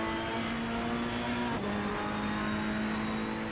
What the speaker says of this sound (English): hear that Ferrari crackling as the fuel goes into that exhaust